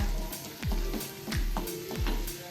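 Garlic butter sweet corn fries in a hot pan, a steady close sizzle broken by repeated scraping stirs at a roughly even rhythm, with no voices over it.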